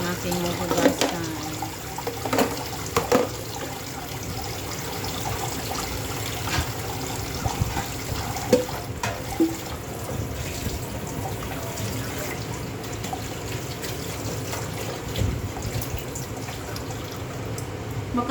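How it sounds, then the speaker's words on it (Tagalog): Tap water runs steadily into a sink while frying pans are scrubbed and rinsed, with splashing, dripping and occasional clanks of metal, and a voice talking now and then over the flow. "Mga kawali naman ang aking hugasan."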